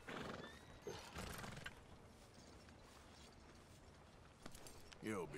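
Horse whinnying in a video game, a loud neigh near the start followed by scattered game noise, with another whinny-like call rising near the end.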